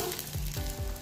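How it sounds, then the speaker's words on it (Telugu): Garlic crackling in hot oil as part of a seasoning tempering, a short burst of close, busy sizzling with light stirring pulses. "వెల్లిపాయలు వేసుకుందాం."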